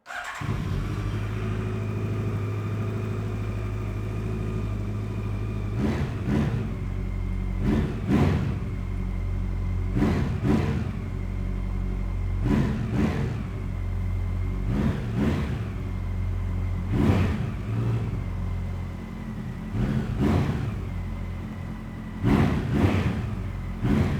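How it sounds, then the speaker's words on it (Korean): Exhaust note of a 2017 Honda CB1100RS motorcycle fitted with an Overracing muffler, heard alone: a steady deep idle broken by about nine sharp throttle blips that rise and fall, loud and close. "오버레이싱 머플러의 배기 사운드 한번 들어보고요."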